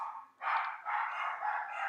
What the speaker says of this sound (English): They're gonna bark for a second.